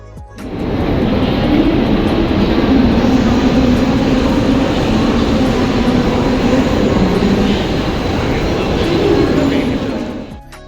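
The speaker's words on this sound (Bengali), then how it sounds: "এটা বিরারের ট্রেন, কিন্তু আমরা ধরবো বরিভ্যালি ট্রেন।" A loud, continuous roar and rumble of a train fills the whole clip, swelling in then fading near the end, with no clear pauses.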